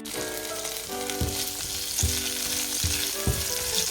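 Boiled carrot leaves stirred into a frying pan with parsley, a steady sizzle of frying under repeated scraping strokes of a utensil, close and fairly loud, no voices.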